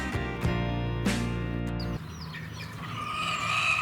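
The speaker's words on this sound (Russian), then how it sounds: "обнаружился зоопарк с курами и петухом" Chickens and a rooster in a small zoo set in a fortress moat in Malta: a loud, drawn-out rooster crow fills the first two seconds, followed by softer clucking and chirps under a faint outdoor hum.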